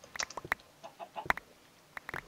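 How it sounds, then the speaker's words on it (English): Chicken clucking in Minecraft, a series of short, quiet clucks and squawks scattered irregularly, with a couple of sharper louder notes, no talk over them. "I hear a chicken."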